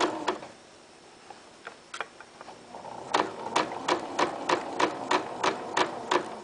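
A sewing machine stitches a center pocket onto a fabric locker caddy, running in slow, controlled bursts: a few scattered clicks at first, then a steady run of sharp, evenly spaced ticks near the end, close and fairly quiet.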